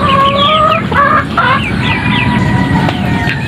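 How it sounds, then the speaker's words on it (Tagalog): Chickens clucking and cackling close by, several overlapping calls in quick bursts, with a rooster-like crow among them, loud over a steady outdoor background. "Yung ibang manok ko hindi nagsibaba."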